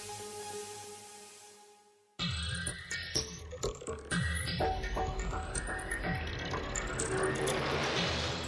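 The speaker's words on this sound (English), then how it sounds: "Then automated machines install the remaining components." Automated factory machines install plastic zipper components with steady mechanical clatter, rapid ratcheting clicks and whirring gears, loud and close after a brief drop in the noise.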